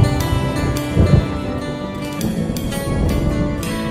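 Rolling thunder and rain sound effects open a classic country song about a storm moving in, with deep rumbles swelling under the steady music.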